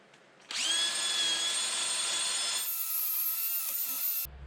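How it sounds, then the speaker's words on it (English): A cordless drill spins a wire brush attachment against a vehicle's axle housing, a steady high whine with scraping grit, starting abruptly and running for about four seconds, close and loud. "I'm gonna now clean this with a wire brush attachment on my drill"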